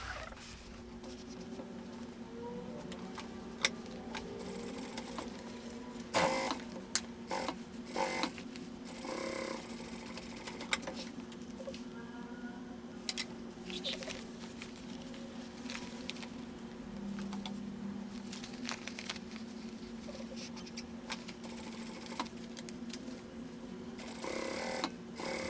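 Sewing machine stitching fabric for a tote bag made from scraps, a quiet steady whir with scattered clicks and handling taps, no talking.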